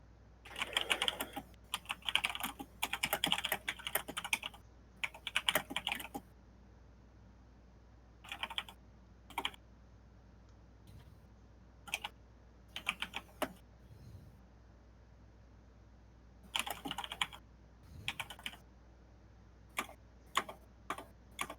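Keyboard keys clack in quick bursts of typing, separated by pauses, crisp and close against a quiet background.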